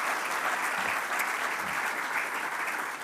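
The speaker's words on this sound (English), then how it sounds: "Give James a round of applause for giving such a wonderful show." Awards ceremony audience at the 2019 Bond University Film & Television Awards gives steady, dense applause, an even wash of many hands clapping throughout without a break.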